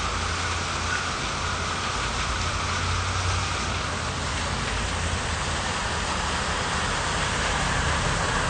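Heavy rain pours steadily and loudly, a dense continuous hiss of drops hammering surfaces with no voices.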